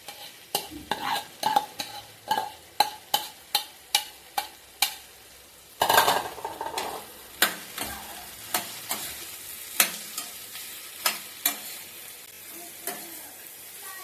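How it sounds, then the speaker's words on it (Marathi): Sliced okra frying in a pan while being stirred, with a series of sharp, regular spatula scrapes and clacks over a soft continuous sizzle, close and fairly loud, then sparser strokes later on, with no talking. "आता ही कापून घेतलेली भेंडी टाकूया"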